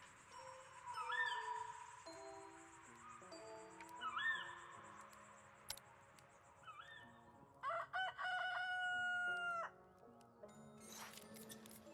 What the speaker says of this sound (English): Right back at you, Rooster.